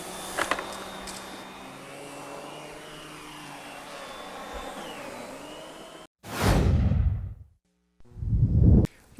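A Miele SEB 236 vacuum cleaner runs with a steady mid-level whirring drone for about six seconds, then cuts off with a loud whoosh and bump. A short silence follows, then another burst of noise.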